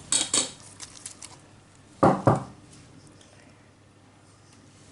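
Remaining chopped onion drops into a cooking pot, a couple of quick clattering scrapes at the start and then a brief louder tumble and clink of utensil against pot, close, followed by near quiet.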